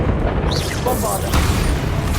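A Bombarda spell explodes in the Hogwarts Legacy video game amid combat, a dense rumbling blast with brief whooshing sweeps over a continuous roar, loud and close.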